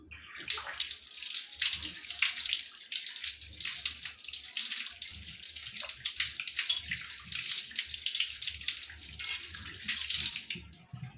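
Running water pours steadily while a greasy gas stove is washed, a continuous close hiss and splash with small gurgling variations throughout, no voices.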